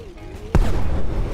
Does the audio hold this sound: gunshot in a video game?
yes